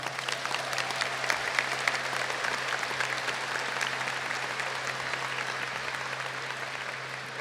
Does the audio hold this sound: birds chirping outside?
no